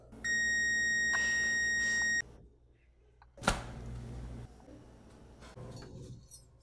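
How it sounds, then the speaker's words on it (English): A kitchen timer beeps in a steady electronic tone for about two seconds, then a sharp clatter or thud follows amid quiet room noise with faint movement. "the timer!"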